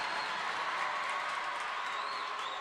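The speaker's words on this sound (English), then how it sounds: "ovation from the crowd." Crowd ovation in a rink at a varsity high school hockey game after a save, sustained mid-distance applause and cheering with a faint whistle, no clear talk over it.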